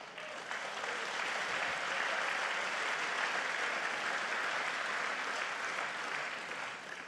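A large audience applauds steadily at a business conference event, dense, even clapping that holds at full strength throughout before tapering slightly at the end.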